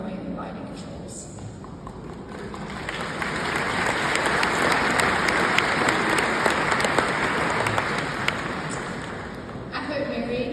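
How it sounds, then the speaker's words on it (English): Commencement ceremony audience applauding a speaker at an NC State engineering graduation, a broad wash of clapping that swells over several seconds, peaks, then fades, with voices audible around it. "I hope Mary can hear that applause over in Ireland"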